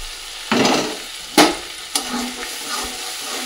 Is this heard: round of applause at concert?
no